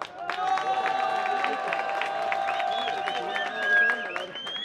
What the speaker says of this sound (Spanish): Fuerte aplauso a los cabros, gran set de batalla, Pug, Terry en el escenario.